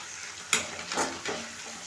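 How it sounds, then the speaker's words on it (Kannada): Moringa leaves cooking in a hot tempering: soft, close sizzling and hissing with a few brief stirring scrapes, fairly quiet and without speech. "ಒಗ್ಗರಣೆಲ್ಲೇ ಬೇಯಿಸ್ಬೇಕು."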